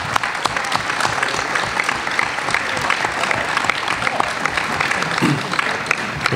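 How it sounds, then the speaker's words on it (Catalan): An audience at a Catalan political gathering about the 2017 referendum breaks into sustained, dense applause that holds steady from start to finish. "Per tots els militants i per aquells jo demanaria un aplaudiment."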